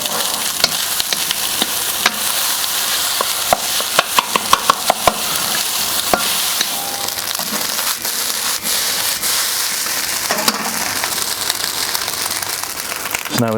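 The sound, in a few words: scraping the pan while stir-frying egg fried rice on Kamado Joe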